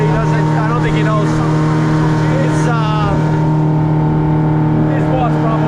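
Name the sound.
Yamaha 150 outboard motor running on a boat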